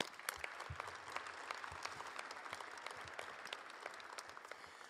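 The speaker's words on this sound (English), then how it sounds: "Let's give them a round of applause" A crowd applauds at a women's basketball coach introduction, an even, continuous patter of clapping with sharp individual claps, heard faint and distant.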